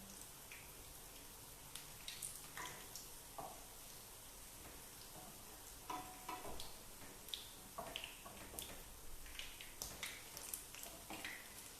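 Battered pieces frying in hot oil give a steady, fairly soft sizzle, with scattered sharper crackles and pops throughout.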